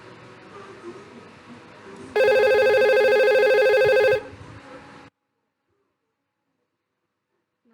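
Telephone ringing in Cisco Packet Tracer during a VoIP test call: one loud, steady electronic ring of about two seconds, clear and close, followed by a short quieter tail, then silence.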